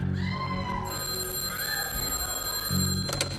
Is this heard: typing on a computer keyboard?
no